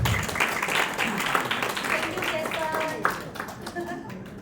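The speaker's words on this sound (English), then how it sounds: "Give a applause to Sharon." An audience claps for Sharon during a business sharing session, a steady patter of applause with voices talking over it throughout.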